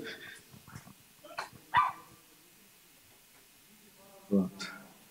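A dog barks indoors in short, separate bursts, with a couple of louder yelps standing out over quiet background chatter at an event's closing.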